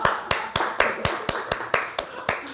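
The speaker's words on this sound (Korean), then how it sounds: "아, 박수." Audience applause at a church seminar, about a dozen sharp, evenly spaced claps in a brisk rhythm, close and fairly loud with no talking.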